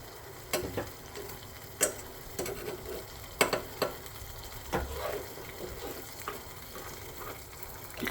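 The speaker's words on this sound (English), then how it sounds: "Then as it's cooking, we stir it all together." A butter mixture is stirred in a cooking pan, with faint sizzling under scattered soft scraping and tapping clicks from the utensil, quiet and close.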